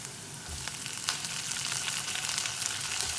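Tomato dropped into a pan of frying garlic and onion, giving a dense, close sizzle that stays loud and even, with small crackles and spatters throughout.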